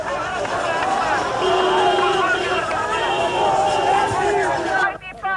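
A large, dense crowd pressing around Benazir Bhutto's convoy in Pakistan: a continuous roar of many voices with shouts and chanting, loud and close throughout, cutting off abruptly near the end.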